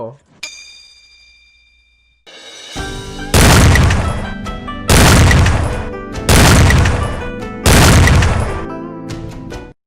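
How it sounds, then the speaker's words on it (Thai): Tank cannon in the Free Fire video game fires four heavy booming blasts at roughly even intervals, each loud and close with a long rumbling tail, after a short metallic chime and a quiet lead-in. "รถถังยิงทะลุโล"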